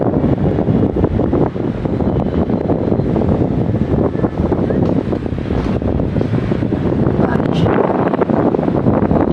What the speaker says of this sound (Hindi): हवा चल रही है, बाहर बारिश होने वाली है।